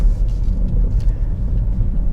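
A 2025 Volvo XC90 driving over a dusty washboard gravel road: a continuous low rumble and drumming from the tyres and suspension, heard from inside the cabin with faint rattles and no talking.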